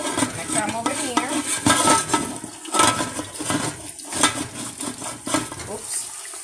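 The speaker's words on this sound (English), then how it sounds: "See how that oil is bubbling there?" Hot oil bubbles and sizzles steadily in a pot of frying pork rinds, with clattering utensil and stirring noises over the top and a voice speaking at times.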